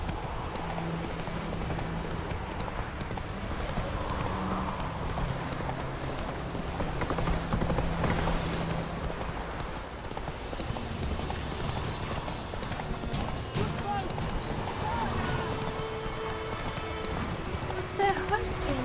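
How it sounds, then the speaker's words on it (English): Horse hooves clip-clop steadily in The Witcher 3 as the horse moves along, heard clearly against game ambience, with a person talking over it at times. "What's the horse doing here?"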